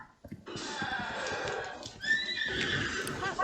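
A horse neighs loudly in Breath of the Wild, a long whinny with clip-clop hooves, close and clear with no talk over it.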